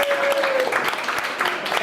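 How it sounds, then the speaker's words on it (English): Applause from the crowd at an open mic comedy night in a golf club, dense clapping with a few sharper individual claps standing out, close and lively for about two seconds. "Give him a big round of applause."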